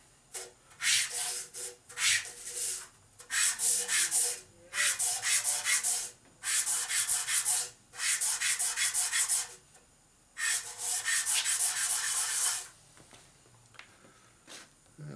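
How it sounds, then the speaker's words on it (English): Hand sanding of a Harley panhead rocker arm, loud close rhythmic scraping strokes in bursts of several seconds separated by brief pauses, with no talking. "Now when you finish sanding, you do light pressure"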